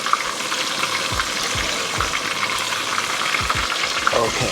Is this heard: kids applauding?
no